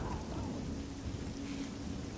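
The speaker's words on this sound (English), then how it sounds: "It's beginning to rain, I better go inside." Rain in the video game Oblivion, a soft continuous hiss of falling rain with a low distant rumble like thunder, steady and fairly quiet throughout.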